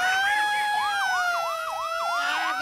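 An ambulance siren sound effect wails loud and close, its two-tone pitch sweeping up and down in a steady rhythmic pattern throughout, with no other sounds alongside.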